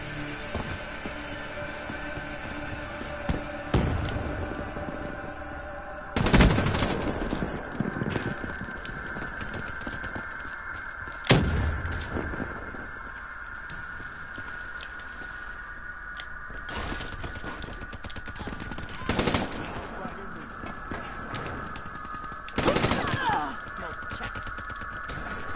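FAMAS rifle bursts ring out in the Black Ops 3 beta multiplayer, several sharp clusters of shots spaced across the stretch over a steady game hum and scattered effects.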